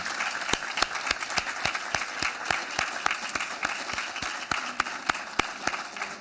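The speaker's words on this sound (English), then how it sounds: "I just wanted you all to join me in a round of applause" A small group at a housing summit's closing session applauds, sharp individual claps ringing out steadily and close by for several seconds.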